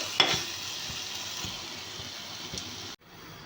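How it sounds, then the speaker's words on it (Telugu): Onions and green chillies frying in a pan sizzle steadily, with a soft stir or clink near the start and a few light knocks; the hiss stays even and close, then cuts off briefly near the end. "ఉల్లిపాయలు పచ్చిమిరపకాయలు వేసుకున్నాం కదండి ఇది అంతా ఫ్రై అయ్యేటట్టు ఫ్రై చేసుకోవాలండి"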